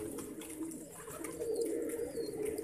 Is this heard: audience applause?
no